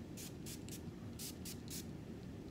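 Six quick bursts from a spray bottle of curl refresher onto hair, short hisses in a steady rhythm over a constant low background hum.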